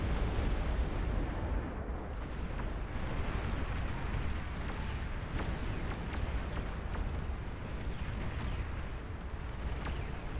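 An artillery barrage in the real-time strategy game Beyond All Reason rumbles as a dense, continuous wall of overlapping explosions and booms, loud and steady throughout.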